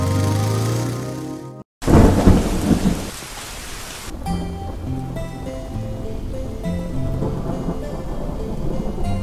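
Heavy rain pours steadily on surfaces while thunder cracks loudly and rumbles close by, with no voices.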